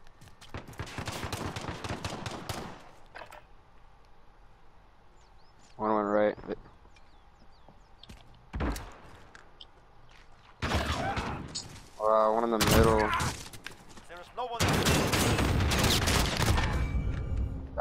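Bursts of rapid video game gunfire, several separate volleys of automatic shots with quiet gaps between, under voices talking and reacting.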